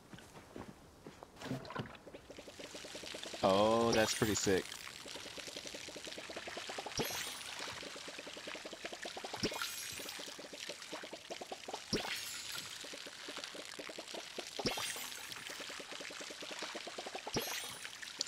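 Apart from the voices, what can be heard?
watering plants with a watering can in video game Palia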